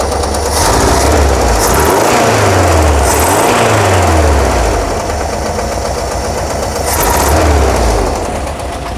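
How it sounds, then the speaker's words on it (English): A 1982 VW Vanagon engine, converted from fuel injection to a single 38mm carburetor, idles loudly and steadily close by, with a fast ticking from the valves running through the rough drone. "The new tick you hear is just the valves."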